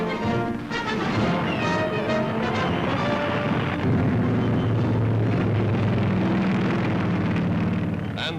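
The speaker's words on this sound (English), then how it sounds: "Royal Australian dive bombers sweep in amid exploding shells" Exploding shells and dive bombers roar through a 1943 US Army battle exercise, a continuous rumbling barrage with engine drone and thuds, loud and dense throughout.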